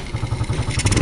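Suzuki Smash 115 motorcycle engine fitted with an XRM125 carburetor replacing its diaphragm carb, revving briefly and close with a fast even throbbing pulse that climbs slightly at the end.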